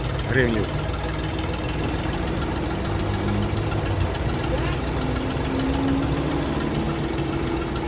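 A Xingtai 244 mini tractor engine idles nearby with a steady, rumbling knock, a continuous low drone throughout, and a voice briefly audible over it.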